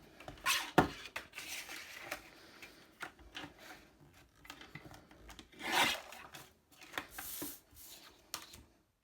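Scissors trim the excess from a card stock easel card with a series of close, dry snips and rasping cuts, one crisp burst early on and another midway, separated by quieter paper rustling.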